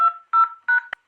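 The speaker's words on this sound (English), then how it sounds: "Now type your house number that's registered to this card." Telephone keypad tones entering a number, three short DTMF beeps in quick succession followed by a brief fourth blip, clear and close.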